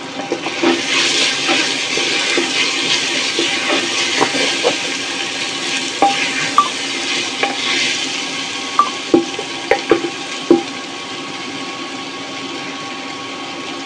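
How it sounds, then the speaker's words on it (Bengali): Lentils and potatoes frying with spices and green chillies in a pan give a loud, steady hissing sizzle, with scattered scrapes and knocks of a stirring utensil that grow sharper toward the end; nobody talks. "এই অবস্থায় মশলার সাথে ডাল আর আলুগুলো 5 থেকে 6 মিনিট খুব ভালোভাবে নেড়ে চেড়ে ভেজে নেব।"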